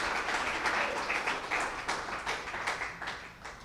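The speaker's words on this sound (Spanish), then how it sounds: "Voy a darle un aplauso al Señor." A church congregation applauds the Lord, a moderately loud, uneven patter of many hands clapping that holds steady and tapers slightly toward the end.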